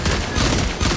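A loud, rapid burst of gunfire from a hero shooter video game, the shots running together into one continuous volley for about a second.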